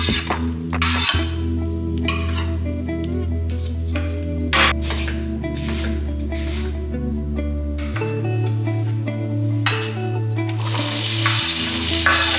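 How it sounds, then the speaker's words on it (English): Onions and garlic sizzle and fry in a pan with steady crackling, joined by occasional clinks and stirring scrapes of utensils against cookware, close up and with no one speaking. "As the onions and garlic are cooking in the pan"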